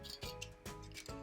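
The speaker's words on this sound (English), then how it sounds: "a pair of utility scissors, craft scissors, to cut your metal strip." Utility craft scissors snip through a thin metal strip for a DIY cookie cutter, with three short rasping cuts in a steady rhythm, close and quiet with no other sounds.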